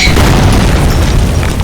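A loud, booming explosion in the 2008 horror video game Penumbra: Requiem, a dense rumbling blast that fills the whole moment without any speech over it.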